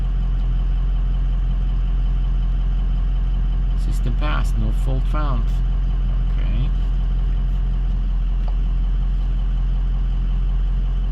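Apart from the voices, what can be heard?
2004 Ford F250 6.0 Powerstroke engine idling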